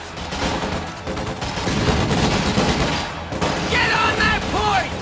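Continuous rattling small-arms fire from the World War II strategy game Company of Heroes 2, Ardennes Assault campaign, dense and loud against the battle noise throughout, with a shouted voice over it.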